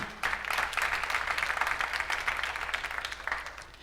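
Church congregation applauding together, a steady wash of many hands clapping that starts abruptly and holds at an even level throughout, with no voices standing out.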